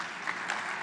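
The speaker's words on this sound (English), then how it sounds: "A big round of applause for our panelists." A seated conference audience applauds panelists, a steady, moderately distant clatter of clapping hands filling the brief moment.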